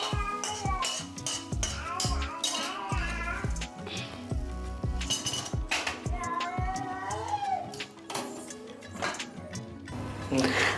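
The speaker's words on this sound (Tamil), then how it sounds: "வதக்கின காயை பருப்பில் சேர்த்துட்டேங்க." Sautéed vegetables tipped into a pot of cooked lentils for sambar, with busy clatter of a spoon and pot, scraping and stirring running close and steady throughout.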